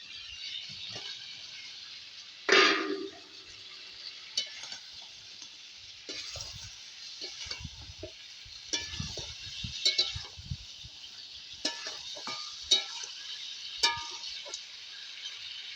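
Mutton curry fries in a pan with fried potatoes stirred in. A soft, steady sizzle runs throughout, broken by scraping stirs and a few sharp clinks of a utensil against the pot.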